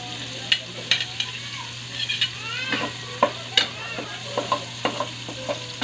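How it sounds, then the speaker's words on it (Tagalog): Ginger and onion sauté in a pan, a soft constant sizzle punctuated by repeated sharp spatula stirs and scrapes against the metal, close and fairly quiet. "Hanggang sa mag-golden brown yung luya."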